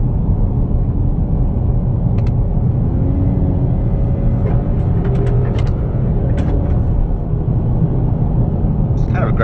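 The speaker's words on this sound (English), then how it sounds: "Gravelly road, so sorry about that" Tires of a 2018 Honda Accord rumble steadily over a gravel road, a loud continuous low roar with scattered light crunches and ticks throughout.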